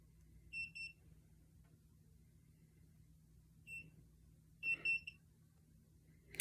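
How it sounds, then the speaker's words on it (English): An electromagnetic radiation tester sounds short, high electronic alarm beeps in a quiet room, a few brief clusters with pauses between, the last burst a little louder. "This is my electromagnetic radiation tester."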